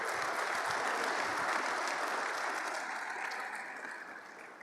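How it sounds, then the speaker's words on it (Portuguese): A church congregation breaks into sustained applause, a dense wash of many hands that gradually fades over several seconds. "Uma salva de palmas ao Senhor."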